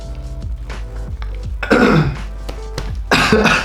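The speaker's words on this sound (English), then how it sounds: "I just burped a little bit then." A short burp from a person after drinking fizzy Nocco, heard near and fairly loud amid throaty gulping and clearing noises, with a second rough burst of air toward the end.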